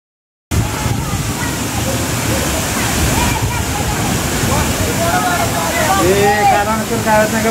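Water gushes loudly and continuously from a burst Shirsai canal pipeline at Shirsuphal near Baramati, a dense roaring spray with voices talking underneath.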